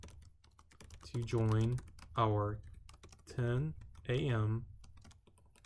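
Keys on a computer keyboard clatter as a message inviting students to a class Zoom meeting is typed, the clicks running under a person talking.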